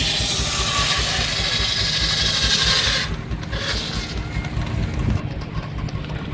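A steam engine at a country fair runs a shingle saw with a smooth, steady low chugging rumble under continuous rasping wood-cutting noise, loud and near, easing slightly partway through.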